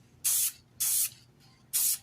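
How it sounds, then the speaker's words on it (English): Three short close bursts of aerosol sealant sprayed onto a knife handle, each a loud, steady hiss lasting about a quarter second with brief pauses between, no voices. "Let's just spray it down, and a couple of little spritz on each side is all you really need."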